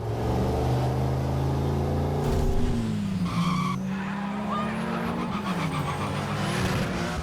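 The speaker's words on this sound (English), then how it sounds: "you're really in a car that's really moving down a real road with other real cars" Car driven on a real road among traffic, with a loud engine rising and falling in pitch, tyres squealing and skidding, and passing vehicle noise around it.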